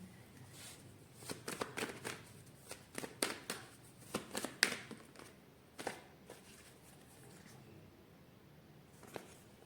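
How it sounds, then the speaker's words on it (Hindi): Oracle cards being shuffled by hand, a run of quick papery riffles and flicks in bursts with brief pauses, close and fairly quiet, no talking. "और एक बार शफल दूसरा कार्ड निकालते हैं"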